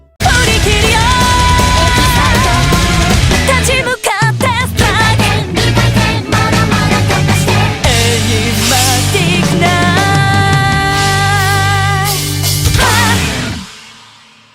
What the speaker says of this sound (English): they hit you with a mini drum solo at the end of the song